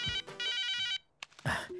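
A phone rings with a bright electronic ringtone in a short burst that stops abruptly, followed by a brief noisy rustle, heard up close in a comedy scene.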